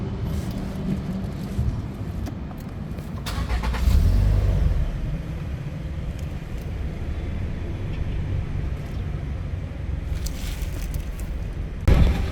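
A 2026 Toyota Land Cruiser FJ engine turns over with a brief surge around four seconds, then settles into a low steady idle beneath cabin clicks and faint handling noises.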